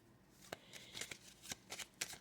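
A deck of cards being handled and shuffled, with sharp riffling bursts and soft slides repeating at a quick uneven rhythm, close and quiet with no talk.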